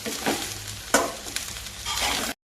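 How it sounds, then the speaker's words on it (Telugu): Carrot rice with fresh curry leaves being stirred and tossed in a hot frying pan, scraping strokes over a steady sizzle, fairly close and with no talking. "ఒకసారి రైస్ మొత్తం కలిపేసుకుని లేత కరేపాకు వేసుకోవాలండి"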